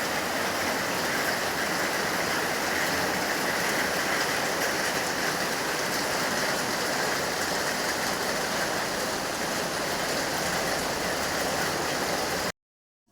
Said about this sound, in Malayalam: പുറത്ത് നല്ല തകൃതിയായിട്ട് മഴ പെയ്യുന്നുണ്ട്